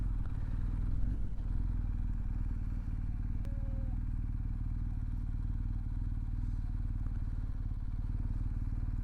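An adventure motorcycle rides slowly over rough off-road terrain, its engine a steady low drone with occasional clatter and scraping, fairly distant and even in level.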